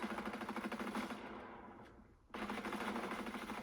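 Rapid automatic gunfire in the video game 99 bots, a dense loud stream of shots that breaks off briefly and then resumes at full volume.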